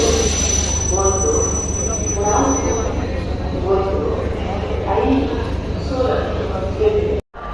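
A DEMU express train, number 11415, running from Solapur toward Hosapete, with a steady loud rumble and rhythmic rail clatter throughout and a brief dropout near the end.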